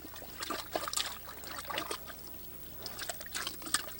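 Water is poured into the cavity of a field-dressed animal carcass to cool it, giving a soft, splashy trickle in uneven bursts at close range.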